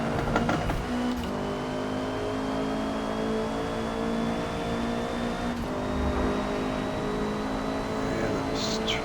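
A Honda #73 Civic race car engine in Forza Motorsport at Road America holds a steady drone in third gear, with a faint tire squeal in places and someone talking over it.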